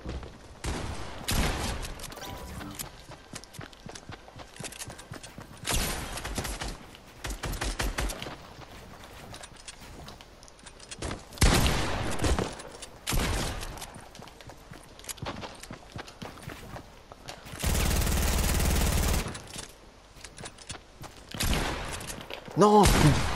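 Bursts of P90 submachine gunfire in a video game, rapid loud volleys coming in several separate runs with game noise between them and a long sustained burst near the end.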